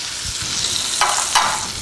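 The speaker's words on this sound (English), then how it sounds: "So drop the carrots, the celery, and the shallots into the hot butter" Carrots, celery, shallots, apples and hazelnuts sizzle steadily in hot butter on low heat, a soft continuous crackle close by, with two brief louder scrapes of stirring partway through; no one speaks.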